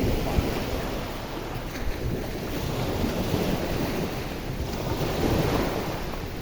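Ocean surf on the sea at Boracay washes steadily and close, a broad continuous roar of breaking waves mixed with gusty wind buffeting the microphone, with no voices.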